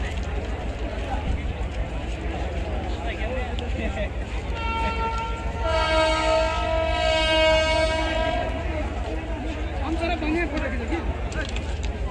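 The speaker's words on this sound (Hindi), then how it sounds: "ट्रेन देखा के लिए एक्साइटमेंट हॉर्न दऽ रहल छै।" A train horn blows a long sustained tonal blast over the rumble of a moving train on a Nepali railway, loud and close, with voices talking throughout.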